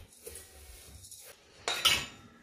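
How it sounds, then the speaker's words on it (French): A utensil scrapes and clinks against a bowl as melted butter is stirred into finely crushed speculoos biscuit crumbs, with soft scraping early and a louder burst of clattering near the end. "Je viens ajouter mon beurre fondu. Et là, je mélange."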